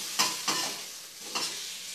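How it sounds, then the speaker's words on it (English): Frozen ground meat frying in a frying pan, a steady sizzle with three short bursts of stirring or scraping, close and fairly quiet, with no talking. "So it was a bad decision putting a frozen meat in the frying pan."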